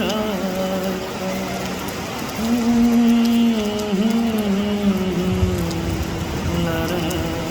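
Rain falls steadily in Bangalore, a continuous wash of drops on surfaces, with a sustained musical tone running over it through much of the stretch.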